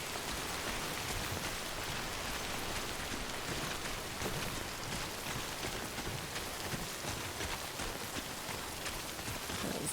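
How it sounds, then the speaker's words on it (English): Rain falling in the video game Death Stranding, a steady, even wash of hiss and patter that stays constant throughout with no talk. "Once the rain stops, we'll go ahead and restore some of these containers,"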